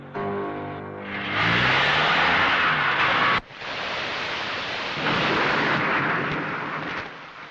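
Steady heavy rain roars loudly throughout with deep rumbling underneath, after a brief harmonic tone at the start and a short dip partway through.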